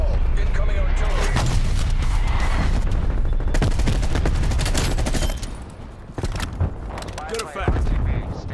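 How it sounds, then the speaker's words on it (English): An incoming artillery strike in Call of Duty Black Ops Cold War on the Nuketown 84 map pounds as loud, dense, continuous blasts and gunfire, easing slightly near the end with sharp cracks still cutting through. "Incoming artillery."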